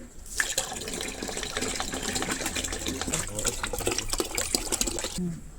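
Collected cow urine is poured into a bucket, a loud, close gushing stream that runs steadily for several seconds before cutting off, with no talking over it.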